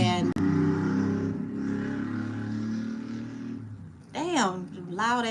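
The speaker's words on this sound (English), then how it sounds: "damn, loud ass car" A loud car roars past outside, a steady engine drone that rises and fades, with a person speaking over the tail end.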